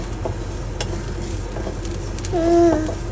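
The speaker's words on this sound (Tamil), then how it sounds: "எல்லாத்தையும் சேர்த்து வதக்குவோம்" A spiced chickpea mixture for karam sundal sautéed in a pan, with a low steady sizzle, a few light stirring taps and a brief tonal squeak near the end.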